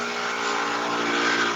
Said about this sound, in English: The driver revs their engine.